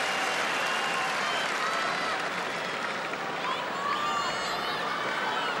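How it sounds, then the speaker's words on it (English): Crowd applause at a tennis match between Philippoussis and Kuerten in Paris, 2000, a steady broad wash of clapping that holds for several seconds with faint talk underneath. "Even applauded by the Brazilian's coach"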